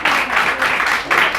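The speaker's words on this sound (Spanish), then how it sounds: "Dale un fuerte aplauso al Señor" A church congregation gives loud, dense applause for the Lord during a seminar gathering, with bursts of clapping that swell and ease in waves across the short span.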